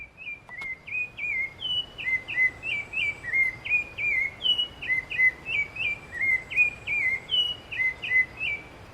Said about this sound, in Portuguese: o canto do sabiá laranjeira, o Turdus rufiventris, que é um canto muito bonito, muito melódico